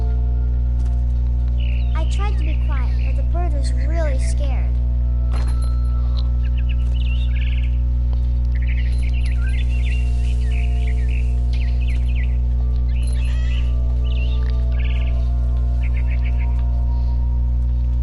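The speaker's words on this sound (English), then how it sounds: "Then I heard chirping outside my window. It was a barn swallow going back to her nest." Barn swallow chirping in the video game What Remains of Edith Finch: a short run of quick, rising-and-falling chirps early on, over a steady low game hum and ambient background.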